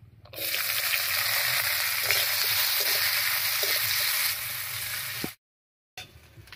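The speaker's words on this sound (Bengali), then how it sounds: "পেঁয়াজটা বেশ লাল লাল করে ভেজে নিয়েছি।" Chopped onion frying in hot oil seasoned with dried red chilli and whole cumin, a loud, steady close sizzle with occasional stirring scrapes, cutting off abruptly near the end before a brief return.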